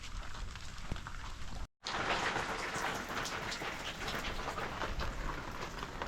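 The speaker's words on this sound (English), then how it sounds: "Rain's just kind of drizzling a little bit," Rain falls during Hurricane Ian in Fort Myers, a steady, soft patter and hiss that drops out for a moment and then returns with slightly stronger texture.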